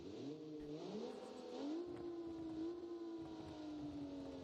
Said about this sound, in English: Is that an NSX? Sounds insane.